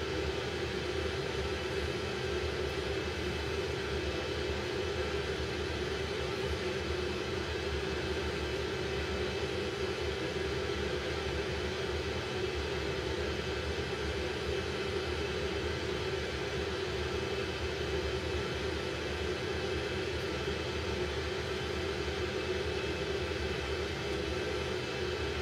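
A fixed-wing airliner in flight over Orly, turning left, fills the cabin with a constant, steady engine drone and broadband rush that stays level throughout with no voices.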